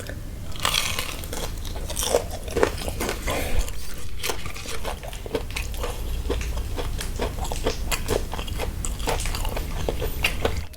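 Crispy chopped fried chicken from a large tray is bitten and chewed up close, with loud crunches repeating in an irregular rhythm and occasional light clinks of cutlery and dishes.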